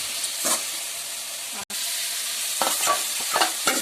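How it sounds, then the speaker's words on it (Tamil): Tomato and onion sauté in a pan, giving a loud, steady sizzle and hiss close by, with stirring scrapes breaking through and a brief cut in the middle. "தக்காளி வெங்காயம் வதங்கிடுச்சு"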